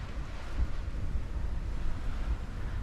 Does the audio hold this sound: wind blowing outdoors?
yes